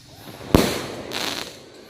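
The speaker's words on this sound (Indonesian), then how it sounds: "kita nyalain mercon roket besar" A sharp rocket firework bang cracks out, followed by a hissing crackle and a second fizzing burst, outdoors against a steady background.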